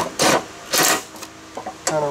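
Impact wrench on slow setting running up spindle bolts on a Cub Cadet LTX1040 riding mower, two short whirring bursts followed by quieter clicks and a third brief burst, close by.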